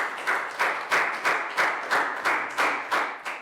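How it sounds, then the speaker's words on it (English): Steady rhythmic clapping from a Year 3 class during a science lesson, about eight even claps in unison repeating at a regular pace, fairly quiet and alone without talk. "Okay, so big round of applause."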